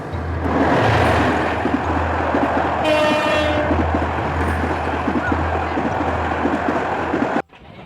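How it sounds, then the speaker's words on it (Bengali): A Dhaka-bound train rolls past at a crossing station, loud and close with a deep rumble and rattling wagons, a horn sounding partway through, then cutting off abruptly at the end. "ট্রেনটি ক্রসিং করার সাথে সাথেই আমাদের ট্রেনটি আবার চলতে শুরু করল তার নিজ গন্তব্যে"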